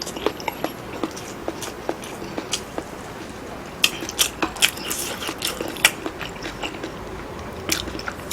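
Close-up chewing of ham kimchi fried rice, with steady wet clicks and smacks repeating throughout at a moderate, uneven rhythm, loud and alone.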